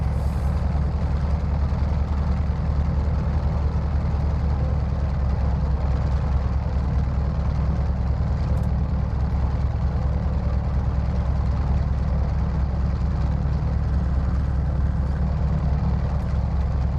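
The big radial engine of an F4F Wildcat idles steadily while taxiing in Microsoft Flight Simulator, a continuous loud low-pitched drone with even rumble and no pauses throughout.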